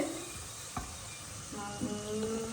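Squid sizzles in oil on a hot dosa griddle, a steady soft frying hiss with a few small pops and stirring taps, faint and close.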